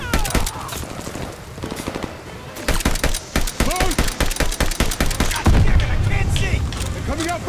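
STG assault rifle fire in Call of Duty Vanguard, a fast, loud run of sharp gunshots in a steady rhythm, with scattered earlier shots and a heavier boom near the end amid battlefield noise.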